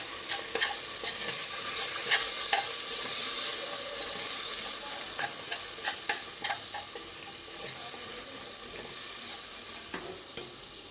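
Spices with coriander-cumin powder and Kashmiri chilli being stirred in a pan for a farali dish, a steady soft frying sizzle under repeated light scraping and clinks of the spoon against the metal.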